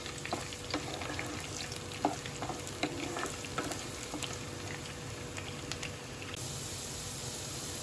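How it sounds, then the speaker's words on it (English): Chopped beans fry in a pan over a medium flame, making a steady close sizzle with occasional stirring scrapes and clicks, and no one speaks. "Beans take a longer time to fry, so we'll keep them on medium flame."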